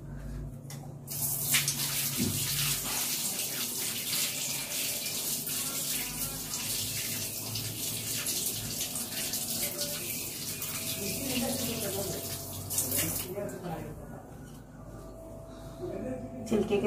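Kitchen tap running steadily as ginger is washed under it, a close continuous gush of water that stops near the end, with background construction noise and someone speaking.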